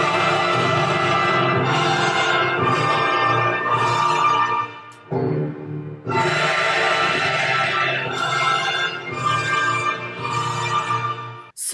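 Orchestral recording of the opening of Carmina Burana: massive sustained chords from full orchestra and choir, loud and dense, swelling in long blocks with a brief drop before surging back.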